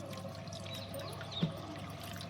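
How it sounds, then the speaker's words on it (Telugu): Water runs and trickles steadily over raw mangoes being washed, a faint continuous pour with a small splash near the middle. "అందుకోసమే మనం ముందుగా మామిడికాయలను ఇక్కడ శుభ్రంగా కడుక్కోవాలి."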